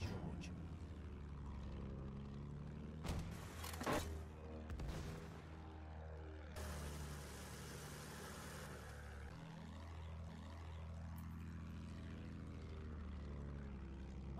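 Enemy propeller plane in the Battlefield 1 video game drones across the Sinai Desert map, a steady engine hum with a rising-and-falling pass overhead amid distant gunfire and in-game voice callouts.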